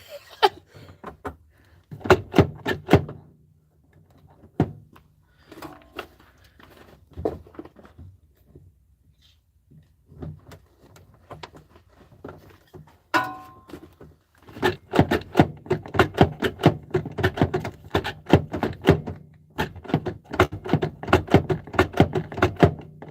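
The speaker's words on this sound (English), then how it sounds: "I don't want to break my key in here." Metal key scraping, clicking and rattling in the door lock of a dump truck, a run of close, irregular taps and scrapes with short pauses, then a denser burst of fiddling toward the end.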